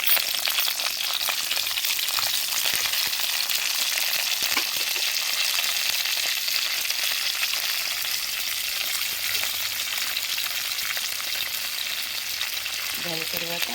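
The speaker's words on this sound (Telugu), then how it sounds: "ఆయిల్ అలా మనకు వేడెక్కింది దీనిలో మనము నాలుగు గింజలు వేసాము" Seeds crackle and sizzle in hot oil in a pan, a steady, loud close frying hiss that runs the whole time with no talking.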